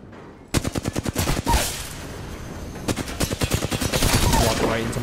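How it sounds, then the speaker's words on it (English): Rapid bursts of gunfire from the player's weapon in the video game Apex Legends, loud and close, firing in quick rhythmic volleys with short pauses between strings of shots. "My gunshots."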